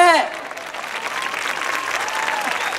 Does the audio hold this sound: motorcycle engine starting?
no